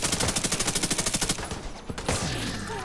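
Rapid automatic gunfire in The Division 2 crackles in a fast, even burst of about twenty shots, then gives way to scattered distant shots and a muddled battle din.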